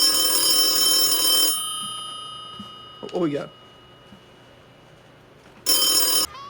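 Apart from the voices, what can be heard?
telephone ringing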